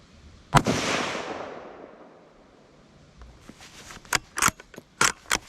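A Ruger American rifle in .350 Legend with a muzzle brake fires one sharp, loud shot that rings out and decays over about two seconds, followed by a quick series of metallic clicks and clacks.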